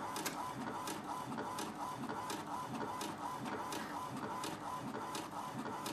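Steady mechanical whirring and rhythmic clicking of an HP ePrint-enabled inkjet printer as it spools up, with regular carriage passes repeating every half second or so.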